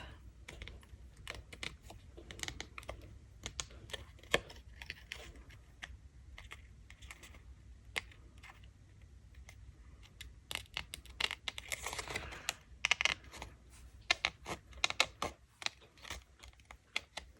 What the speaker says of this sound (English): So now I'm going to cut the excess butterfly off.